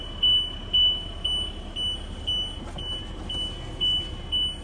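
Repeated high warning beeps from the stabilizer in a 2019 Winnebago View 24D Class C diesel motorhome on a Mercedes chassis, about nine evenly spaced chimes over a quiet cabin hum.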